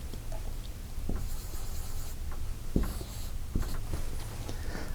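A pen scratching and tapping on a writing surface, close by, in short irregular strokes with a couple of sharper taps, over a steady low room hum; no one speaks.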